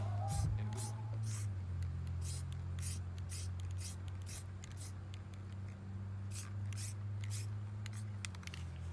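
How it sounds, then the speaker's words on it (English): Repeated short bursts of hissing spray from a spray paint can coating pit bike plastics, several quick blasts in an irregular rhythm over a steady low hum. "Nice even strokes, and take your time when you're spray painting."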